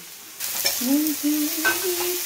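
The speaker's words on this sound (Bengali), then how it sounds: "আর এখানে আলুগুলো ভাজতে বসিয়ে দিয়েছি।" Potatoes fry in oil in a wok and are stirred, with a steady close sizzle and scraping stirs starting after a brief quiet opening.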